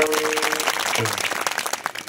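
Dense applause from an audience at a kirtan festival in Pimpalgaon, Bhandara, steady clapping rolling on throughout with a faint tone early on.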